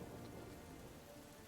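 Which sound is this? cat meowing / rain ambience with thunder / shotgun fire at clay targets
rain ambience with thunder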